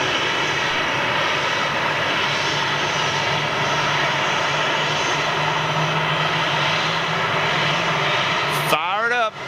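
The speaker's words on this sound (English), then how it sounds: "Old livery 737 KLM, Royal Dutch Airlines." Jet engines of a KLM Boeing 737 in old livery roar steadily at an airport, a loud continuous whine and rumble with a voice talking over it.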